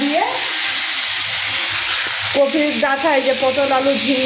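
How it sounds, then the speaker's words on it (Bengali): Ridge gourd, pointed gourd, potato, cauliflower stems, radish and eggplant sizzle steadily in a hot pan with fried dry red chillies for a chorchori. The spatula scrapes and stirs throughout, and a faint voice hums in the background near the end. "ঝিঙ্গা, পটল, আলু, কপি ডাঁটা, মূলা, বেগুন সব কিছু দিয়ে চচ্চড়ি করছি"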